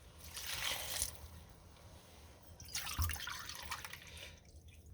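White wine pours and splashes into a saucepan in two bursts, a steady trickling stream with a brief pause between them, close and moderately loud.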